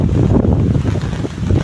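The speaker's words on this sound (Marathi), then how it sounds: "तुम्हाला तर पाऊस आलाय जोरात" Heavy rain falls in a forest, a dense, loud, continuous roar with buffeting gusts close to the microphone and no voices.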